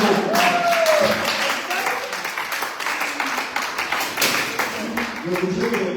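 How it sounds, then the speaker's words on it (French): A church congregation applauds steadily for several seconds, dense clapping filling the room, with a voice and a sustained tone rising briefly over it. "on peut applaudir"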